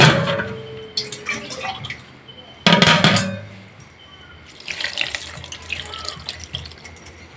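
Water runs from a tap in uneven splashing bursts, with a louder gush midway and trickling afterward; no talking.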